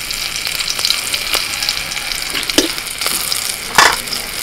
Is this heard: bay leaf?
yes